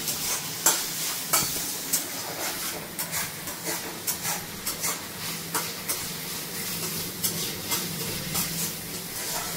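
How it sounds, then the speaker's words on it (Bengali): Fried rice is stir-fried in a pan at a friend's home, with chicken going in. Scraping stirring strokes ride over a constant loud sizzle, close by and with no voices. "ওটা হচ্ছে ফ্রাইড রাইসের প্রিপারেশন।"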